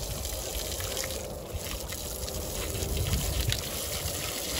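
Water from a hose hisses and splashes steadily near a horse, a continuous soft rushing with faint background noise.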